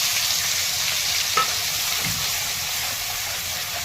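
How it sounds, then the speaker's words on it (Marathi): Onion, garlic and ginger sauté in a pan with oil and whole spices. A steady, close hiss runs throughout, with a couple of brief scraping stirs near the middle. "छान आपल्याला परतून घ्यायचे"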